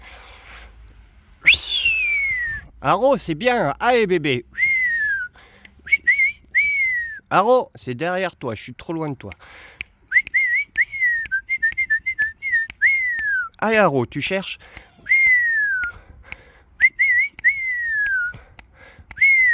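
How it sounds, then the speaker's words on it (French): Repeated sharp whistle blasts, short bursts and falling tones in an uneven series, alternating with a person calling out to a Borzoi puppy nearby in a park. "Je vais péter les oreilles au sifflet."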